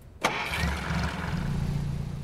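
A car engine starts in the video game Beyond Two Souls, an abrupt crank and catch followed by a steady, fairly loud low idle rumble that continues to the end.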